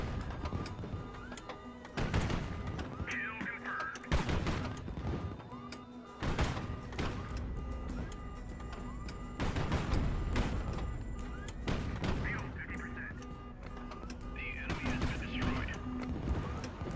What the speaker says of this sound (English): I love that rapid fire AK-100.